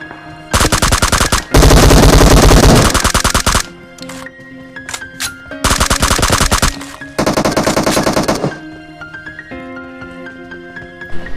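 Rapid automatic gunfire in a battle royale video game, with loud, dense bursts of shots spaced by short pauses and single spaced shots in between.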